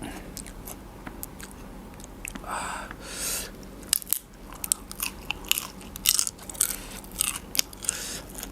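Fried shrimp heads crunched while eating, giving a string of sharp, close crackling bites with short pauses of chewing between them and some faint background noise.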